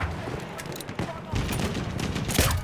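Lewis machine gun fire in a video game on the Suez map, dense rattling bursts close and loud over busy battlefield noise, with a voice talking over it.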